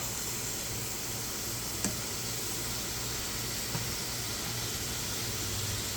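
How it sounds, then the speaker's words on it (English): Steady, even sizzling of potato slices frying in hot oil for homemade chips, a constant hiss with faint pops, no voices. "Look at the sizzle."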